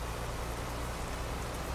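Steady hiss of rain in Euro Truck Simulator 2, heard from a KSRTC Swift bus, falling without pause, with a low rumble underneath and a slight swell right at the end.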